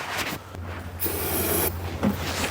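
Two short bursts of aerosol spray hiss close by into a buggy engine, separated by a pause, over a low steady hum.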